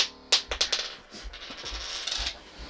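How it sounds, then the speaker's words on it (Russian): A small coin drops and skitters under a sofa indoors, a few sharp bright clinks and bounces close by, then a faint rolling rattle with quiet room noise. "У меня куда-то монетку сюда упала."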